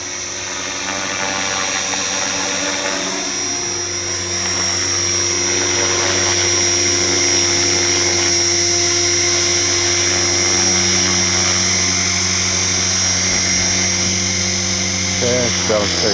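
An Align T-Rex 470LP RC model helicopter flies and comes in to land with a steady, loud, high whining rotor and motor drone throughout, while a person talks over it.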